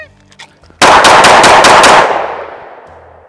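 Rapid string of loud, close gunshots from a Springfield XDM Elite 10mm pistol fired at a 5-yard range, about five quick reports followed by a decaying echo.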